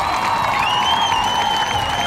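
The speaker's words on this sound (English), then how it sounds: "Standing ovation from the crowd." A high school football crowd gives a standing ovation after a win, with loud, sustained cheering, applause and high whoops filling the stands.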